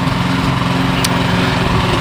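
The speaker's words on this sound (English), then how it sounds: "I have a snow blower." A Cub Cadet snow blower engine runs steadily and loud, a close, continuous small-engine drone with a brief high hiss partway through.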